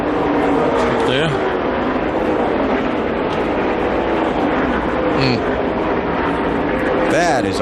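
NASCAR stock cars race at the 2004 Brickyard 400 at Indianapolis, a constant loud engine roar with several cars whining past in rising and falling sweeps, while commentators talk over it.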